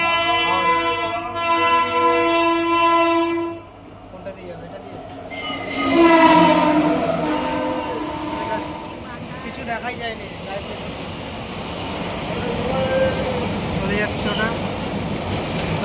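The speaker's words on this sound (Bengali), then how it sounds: "ট্রেন আসছে একটা" A train horn sounds a long blast, then a local train rumbles and clatters in nearby, with people talking over the noise.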